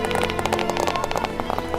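Cartoon sheep run back into a village, their hooves making a quick, rhythmic patter of sharp clip-clop taps over steady background music.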